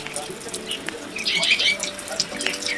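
Water runs steadily while a child is bathed at home, a continuous splashing flow with small drips, and voices speak over it throughout.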